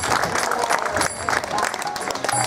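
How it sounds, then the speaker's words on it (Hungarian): Wedding guests at a Krishna ceremony in Budapest applauding the newlyweds, a dense, lively burst of many hands clapping close by, with scattered voices mixed in. "Kérünk egy hatalmas tapsot nekik"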